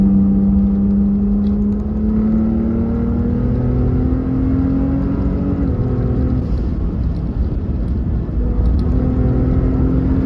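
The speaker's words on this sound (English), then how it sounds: "I like the Chewbacca sound of the exhaust" Deep, rumbling exhaust of a Ford Raptor pickup truck with a rising drone as it accelerates on a backroad, steady and loud throughout, heard from inside the truck.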